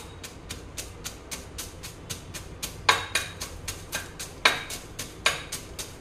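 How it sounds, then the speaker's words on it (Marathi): Peanuts pounded in a mortar and pestle give a steady run of close, sharp knocks at an even rhythm, about three per second, a few striking harder than the rest. "तर चला आता आपण खलबत्त्यामध्ये बारीक करून घेऊया"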